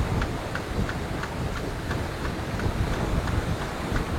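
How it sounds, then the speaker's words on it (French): Wind roars across the deck of the Allagrande Mapei Racing sailboat at sea in about 25 knots during The Ocean Race Europe, a loud, continuous, buffeting rush with faint rhythmic creaks or knocks underneath and no voices. "Là on a un petit peu de vent sous un nuage là"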